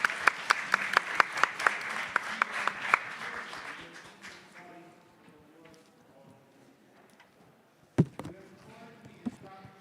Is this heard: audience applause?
yes